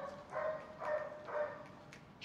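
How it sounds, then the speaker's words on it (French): A dog barks about three times at a steady pace, somewhat distant and faint, outdoors at a house in Bali. "il y a un chien qui aboie"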